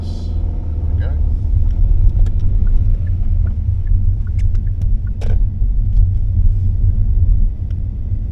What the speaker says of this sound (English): Here's my chance, so a bit of gas, there we go.